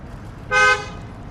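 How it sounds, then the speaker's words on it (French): A single short car horn toot, loud and close, lasting about a quarter second over low traffic rumble. "Moi, je me fais klaxonner."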